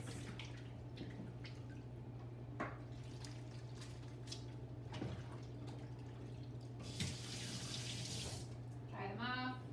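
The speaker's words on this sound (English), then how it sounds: "I'm gonna wash my hands" Hands being washed under a running kitchen tap, a faint continuous water flow with soft splashes, set against a steady low hum in the room.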